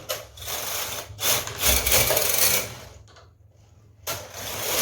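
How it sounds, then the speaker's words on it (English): A punch card knitting machine works thick, doubled wool, its carriage sliding across in long loud rasping, whirring sweeps separated by short pauses, close and without speech. "So I'm going to continue knitting."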